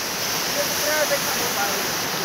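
Dangerous floodwater rushes in a steady, dense roar close at hand, a continuous wash of sound with no breaks or voices over it.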